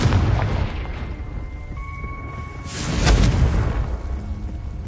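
A Confringo blasting spell goes off in the Hogwarts Legacy video game, a single loud explosive burst with a broad rumbling boom that swells midway and then trails off over steady game ambience.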